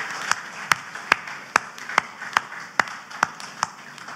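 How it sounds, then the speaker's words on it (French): An award ceremony audience claps in a steady, rhythmic beat, with sharp, evenly spaced claps about every half second over a hum of room noise. "Applaudissons-leur."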